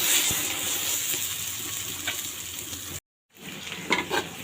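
Soybean chunks fry in hot oil, a steady close sizzle with stirring scrapes, broken by a brief drop to silence before the frying resumes.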